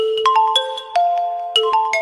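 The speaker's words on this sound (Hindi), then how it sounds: "ले चल, पिताजी की कॉल आ रही है।" An incoming call's mobile phone ringtone plays a loud, bright melodic chime, with quick successive notes ringing close and alone with no voices.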